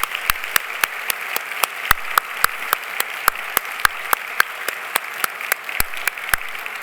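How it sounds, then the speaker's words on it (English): Sparse applause for graduates at a university convocation ceremony in a large hall, with individual claps ringing out at a steady, scattered rhythm over a quiet background for several seconds. "Let's give a big round of applause,"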